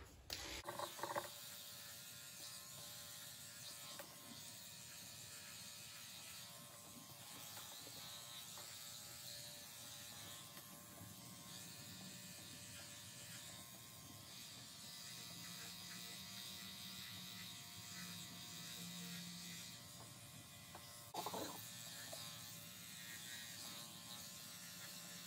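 Electric clippers buzz steadily and close up while shaving a poodle's face, a continuous mechanical hum with slight rattling and no talk.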